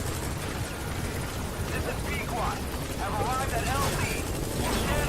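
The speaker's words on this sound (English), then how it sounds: "the soldiers saw the helicopter" Helicopter rotor drone in Metal Gear Solid V: The Phantom Pain, a steady mechanical whir running under game action with scattered effects and a talking voice throughout.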